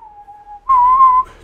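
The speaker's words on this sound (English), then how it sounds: "I've got just some noise of me whistling" A single steady whistled tone, faint at first, then a louder sustained whistled note that ends abruptly.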